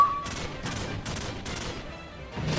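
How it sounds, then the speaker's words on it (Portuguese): Gunfire traded at long range in a shooter video game, four or five crisp bursts of shots in quick succession followed by another volley, moderately loud with no talk. "Syndicate abate Wings em uma troca de tiros à distância"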